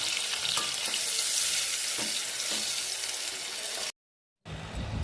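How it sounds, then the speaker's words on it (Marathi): Sliced onions frying in hot oil, a dense, steady close sizzle with light stirring scrapes, cutting out abruptly near the end before resuming briefly. "गरम झालेले आहे तेल या कांद्यांना टाकून देते"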